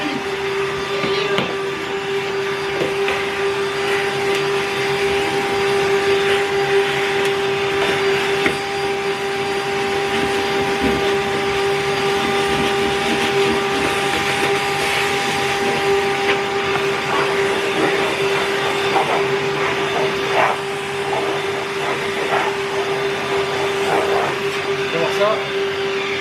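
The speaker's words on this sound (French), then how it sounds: "Aspirer par terre ce que je fais tomber là." A vacuum cleaner runs steadily in a home, sucking up debris dropped on the floor, its constant motor drone holding at the same level throughout with occasional rattles and a voice talking faintly over it.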